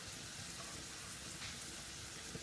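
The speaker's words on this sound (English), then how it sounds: "I'm going to add my smoked salmon right now." Smoked salmon goes into a pan of mushrooms and sherry, setting off a steady, even sizzle and frying hiss that stays constant and close throughout, with no voices.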